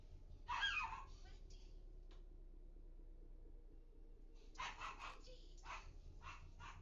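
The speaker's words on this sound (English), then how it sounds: "Who's you barking at, Ben?" A dog barks in a few short bursts, one near the start and a cluster of sharper barks later, over a low steady rumble of a train simulator.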